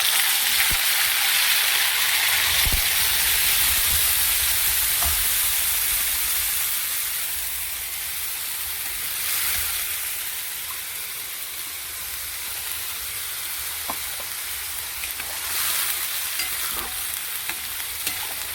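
Onion paste ground with tomato, ginger and garlic, plus spices, frying in a pan, giving a steady loud sizzle and hiss with occasional stirring scrapes throughout, no voices.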